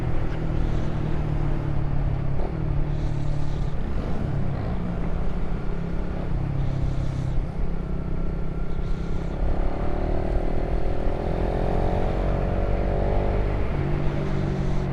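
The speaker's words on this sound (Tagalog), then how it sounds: "ang lakas ng raider" A Suzuki Raider Fi motorcycle engine runs steadily and loudly nearby, rising into a revving pitch sweep partway through and then settling back down, with no voices.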